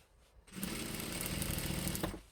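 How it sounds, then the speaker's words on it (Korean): A sewing machine stitching the back and front panels of a quilted jacket together starts up after a brief quiet moment, then runs in a fast, steady mechanical whir, close and alone. "재봉을 하겠습니다."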